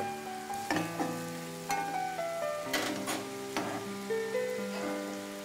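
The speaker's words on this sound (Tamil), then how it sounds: "இப்போ வெங்காயம் வதக்கிட்டு இருக்கு." Onions sautéing in a pan for a spicy atta-ball dish give a steady soft sizzle, with tonal background music playing over the frying throughout.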